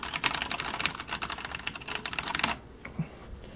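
Rapid typing on a Velocifire TKL01 mechanical tenkeyless keyboard, a dense run of close, crisp key clicks and clacks for about two and a half seconds before stopping, followed by a couple of isolated faint taps.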